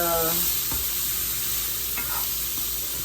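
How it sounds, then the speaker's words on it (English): Minced garlic sautes in a pan with only a little oil, giving a steady close sizzle and crackle with occasional stirring scrapes and clicks throughout. "Just keep sauteing."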